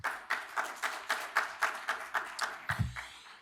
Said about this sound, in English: Please give yourself another round of applause.